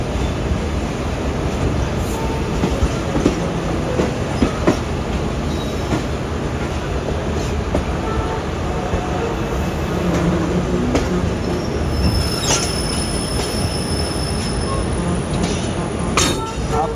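Aboard the Allama Iqbal Express with its new AC coach, a steady low rumble of the train running on the track continues throughout, with faint clinks and occasional higher squeals over it and some quiet talk in the background.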